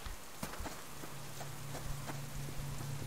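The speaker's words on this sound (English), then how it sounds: "It's raining." Steady rain falls in the video game Subsistence, a continuous soft hiss of drops with a low hum underneath and a few faint clicks and taps scattered through it.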